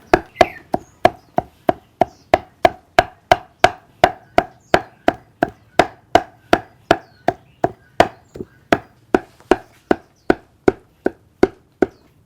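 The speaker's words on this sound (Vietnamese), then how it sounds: "Đây tôi băm như thế này là được rồi các bạn ạ." Knife chopping pork shoulder on a cutting board for fresh Chinese sausage, about 35 sharp, steady chops in an even rhythm, each a crisp close thwack, with no talk.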